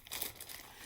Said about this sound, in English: it's okay to go ahead and return this back to your plastic bag